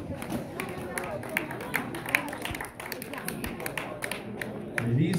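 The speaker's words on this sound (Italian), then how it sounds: "applausi pubblico" Spectators applaud at a regional women's cycling race for the Esordienti category in Lonate Ceppino, a steady patter of scattered clapping and crowd noise running for several seconds beneath an announcer's voice.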